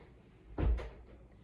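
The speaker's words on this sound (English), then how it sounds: "can you close the door for me?" A single indoor door pushes shut with a soft, close thud, alone against a quiet room.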